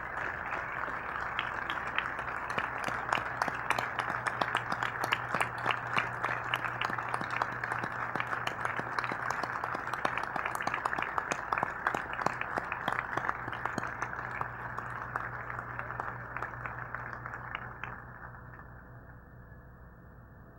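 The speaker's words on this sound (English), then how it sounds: "a tremendous round of applause for the 1957 NABF" Banquet-hall crowd applauding the 1957 NABF national champions at a sports hall of fame dinner, a dense steady clapping that continues for most of the stretch and then fades out near the end.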